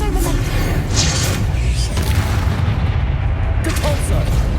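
Arresto Momentum spell cast in Hogwarts Legacy, a dense magical whoosh and rumble over a constant loud game soundscape with booming low end and brief shimmering bursts.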